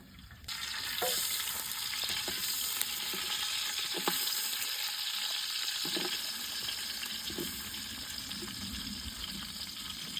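Onions frying in a pan for Nati-style donne biryani, a continuous close sizzle with occasional stirring scrapes and no talk.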